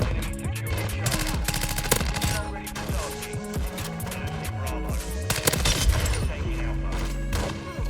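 Rapid automatic gunfire in the video game Modern Warfare 2, with loud bursts of shots and impacts running almost continuously under a player's voice.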